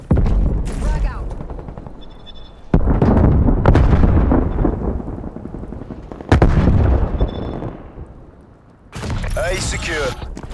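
A frag grenade blast and gunfire from Call of Duty: Black Ops Cold War come as loud, dense bursts with sustained rumble, separated by brief lulls. Game voices and effects are heard between and over the bursts.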